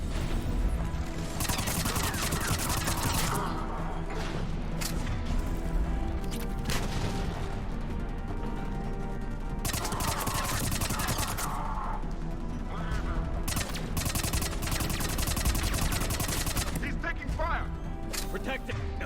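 Gunfire in Mass Effect 3: repeated bursts of shots and impacts over a steady bed of game music and effects, continuing throughout without much of a break.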